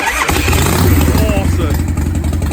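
A custom long chopper motorcycle engine fires up with a sudden loud catch and then settles into a throbbing, rumbling idle close by, with a voice talking over it.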